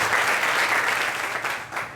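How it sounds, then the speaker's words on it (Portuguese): A Portuguese-speaking church congregation applauds during a worship service, with dense, sustained clapping from many people that fills the room and tapers slightly toward the end. "Vamos aplaudir o Senhor mais uma vez."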